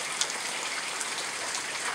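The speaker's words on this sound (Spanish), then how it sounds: "Llueve y llueve y llueve y llueve." Steady rain falling after a tornado, a dense even hiss of drops with occasional slightly sharper patters, constant and moderately loud with no voices.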